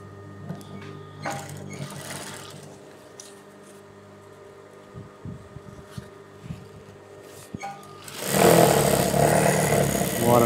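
A sewing machine stitches Surya canvas fabric into a semi Patiala pant. Soft handling and scattered clicks give way to a loud, steady run of fast stitching during the last couple of seconds.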